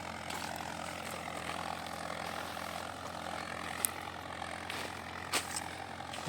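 A tractor engine ploughing a chickpea field runs as a faint, steady distant drone, with a few sharp clicks and knocks now and then.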